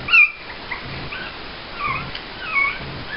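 Several puppies from three litters whimper and yip while playing, with high thin whines and short yelps coming in scattered bursts, close and moderately loud, with no talking.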